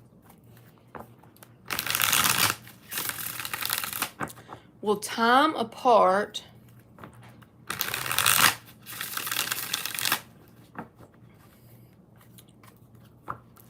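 A purple tarot deck is shuffled in several bursts of crisp card riffling and bridging, with a clear riffle-and-cascade flutter in the middle, separated by pauses where a person talks.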